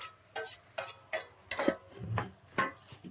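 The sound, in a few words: stirring cauliflower prawn curry with tomatoes in pan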